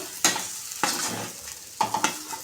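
A spoon stirring capsicum fry in a pan, making several distinct scraping strokes in an irregular rhythm over a soft sizzle, close and fairly quiet.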